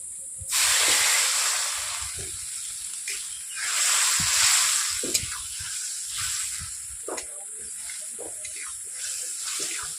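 Water poured into a pan of sizzling pangas fish curry for a Bengali dhoka dish brings a loud hissing surge, easing and swelling again over a steady fry, with faint stirring clicks.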